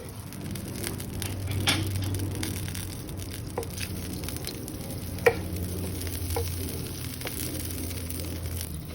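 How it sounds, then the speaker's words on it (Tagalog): Garlic sautés in butter with bacon in a pan, a soft steady sizzle with occasional stirring clicks and utensil taps, fairly quiet and without talk. "And then saute the garlic."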